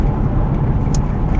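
A Porsche 912 engine idles low and steady, with a dense, even rumble close by and no talking.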